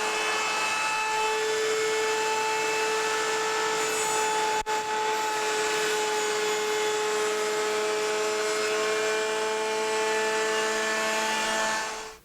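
A Kreg router table runs steadily with a shop vac pulling dust, a loud continuous high-pitched whine and roar with a brief dip near the middle, then cutting off at the end.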